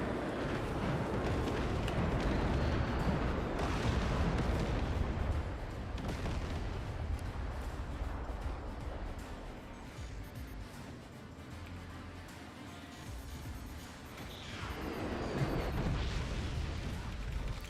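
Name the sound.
flak cannon firing in a video game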